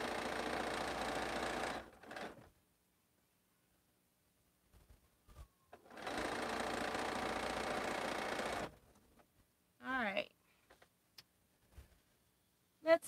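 A sewing machine stitches quilt patches in two steady bursts of several seconds each, split by a quiet pause, followed by a few soft handling clicks and rustles.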